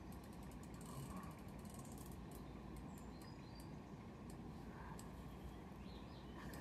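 A fishing reel's clutch clicks in a steady, continuous ratchet as a fish pulls line at dusk, the rapid clicking holding at an even level from start to finish with no talk over it.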